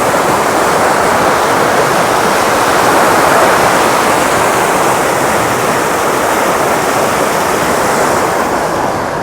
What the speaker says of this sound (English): when you got fast flow like this, it's just going to widen the creek out.